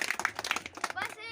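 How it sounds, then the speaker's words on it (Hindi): A group of children claps together in a ragged, uneven burst of many quick claps over about a second, fairly quiet, with voices nearby. "मैं बोलूंगा एक ताली तो एक बजाओगे"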